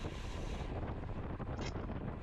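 Strong cross headwind roars steadily across the microphone during a downhill section of a bike race, a constant loud buffeting rush with no voices.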